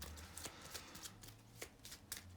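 A deck of game cards being shuffled during a tabletop wargame, soft close riffling and sliding bursts, quiet, with no talking.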